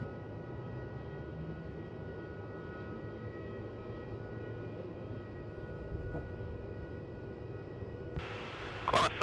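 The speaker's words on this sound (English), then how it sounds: "And here we got Qantas 35 up to Singapore" Qantas airliner departing Melbourne Airport for Singapore, a low, steady far-off engine rumble at moderate level, with a brief crackle of noise near the end.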